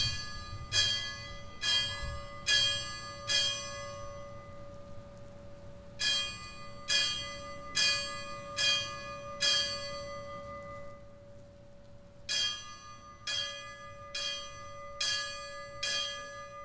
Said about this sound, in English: the bells toll their last alarm